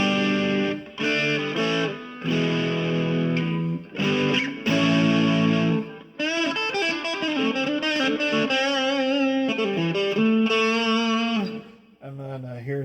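An electric guitar with a gritty crunch plays chords, then bending lead lines, loud and continuous with brief gaps.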